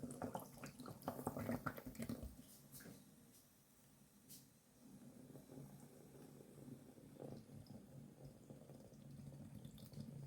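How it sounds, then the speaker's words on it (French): Vinegar poured into a mixture and foaming during natural home cleaning, heard as liquid splashing and a fizzing, bubbling hiss, strongest early then settling into a steady low froth. "Alors, on va mettre le vinaigre."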